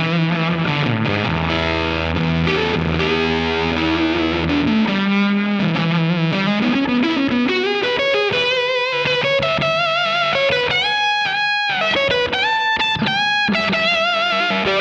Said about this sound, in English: it really needs some overdriven tones. If I crank the big knob